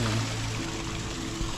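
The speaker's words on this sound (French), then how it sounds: "Là il y a une belle petite cascade, mais improbable quoi" Small waterfall in the Amazon rainforest of French Guiana, a steady broadband rush of falling water, continuous and moderately loud with a faint low hum beneath.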